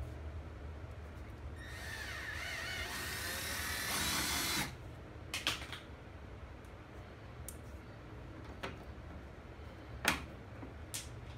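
A power tool whines steadily for a few seconds while installing fender flares on a 2019 Polaris General, then cuts off, followed by a few sharp clicks and knocks in a quiet room.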